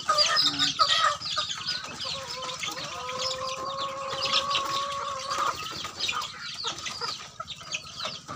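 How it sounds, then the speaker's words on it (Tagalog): Chickens on a farm with young chicks around, clucking and calling close by, with a drawn-out squawk in the middle and overlapping bird calls, no human speech. "Dumami na din mga ka-farm ang mga manok."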